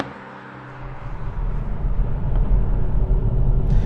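A Hyundai i30 Fastback N with 275 horsepower builds from a quiet idle into a loud, deep engine rumble as it drives, the drone swelling and holding strong to the end.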